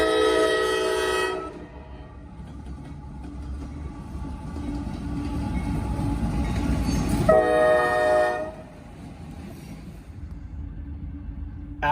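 Freight train M74 led by NS 4005 rolls past, its horn sounding loud at the start and again later over a continuous rumble of passing cars.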